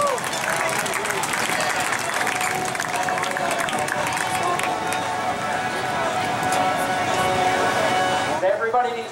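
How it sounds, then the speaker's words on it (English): A racetrack crowd applauds and cheers a race winner at a weekly racing event, a dense, steady roar of clapping that holds loud for about nine seconds, with talk mixed in and a short cutoff at the end. "Give him a round of applause, ladies and gentlemen."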